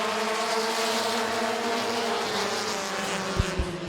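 Several sprint race cars roar together as an 8-lap heat race goes green at Midvale Speedway, a steady loud engine drone with harmonic whine and a couple of thumps near the end.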